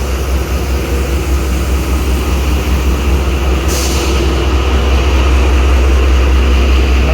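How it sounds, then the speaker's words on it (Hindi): A ZCU30 locomotive, number 6323, rumbles loud and steady at Lahore railway station, a continuous broadband roar with a deep low hum and a brief hiss partway through, with no talking. "बड़ा ज़बरदस्त लोकोमोटिव है।"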